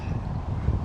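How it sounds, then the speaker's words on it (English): Strong outdoor wind in Sydney buffeting the microphone, a dense low rumbling roar that stays steady and loud for under a second with no other sounds. "It's a bit windy today, very windy actually, in Sydney"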